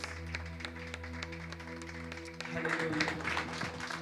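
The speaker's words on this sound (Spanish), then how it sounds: "Terminemos este tiempo dándole un fuerte aplauso al Rey de Reyes y Señor de Señores" Congregation applauding in a church service, a steady broadband clatter of many hands that swells louder in the last second and a half, with a voice speaking over it.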